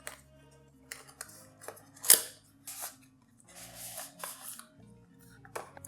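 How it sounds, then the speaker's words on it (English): Scissors snip and slice through the seal on the cardboard box of MI dual driver earphones, a series of close crisp cuts and papery crackles with short pauses between them and no talking. "Let me cut the seal open."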